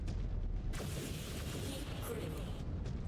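A missile salvo from a mech slams into an enemy in the Mechwarrior 5 video game, a dense, sustained rumble of overlapping explosions that fills the whole clip at a steady level.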